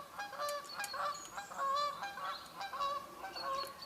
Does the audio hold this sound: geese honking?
yes